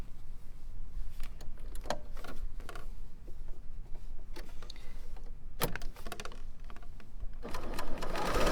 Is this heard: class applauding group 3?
no